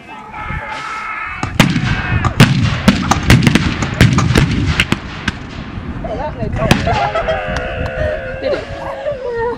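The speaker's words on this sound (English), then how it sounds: "there you heard the mighty pole guns going off, the cannon going off" Historic cannon and pole guns fire at a Bosworth battle reenactment in 2013, a ragged volley of sharp, loud bangs in quick succession, followed by crowd noise and voices.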